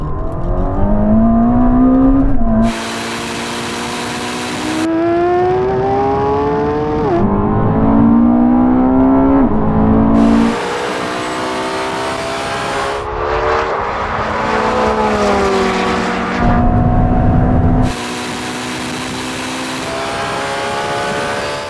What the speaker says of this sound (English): race over the half mile, but this time we're going to be pulling from third gear from 50 miles an hour